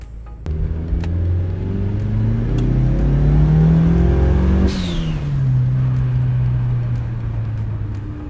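A turbocharged car with a GFB G-Force III boost controller accelerates hard on a boost test run, its engine note climbing loudly through a gear before a brief blow-off hiss and shift, then droning on at steady revs.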